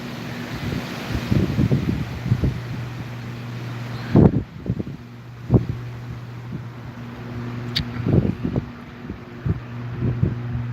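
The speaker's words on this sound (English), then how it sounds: "this wind was just as bad, if not worse, yesterday when I went grocery shopping" Gusty wind buffets the microphone outdoors in a Lublin, Wisconsin park, with heavy low rumbles surging in bursts over a steady hum.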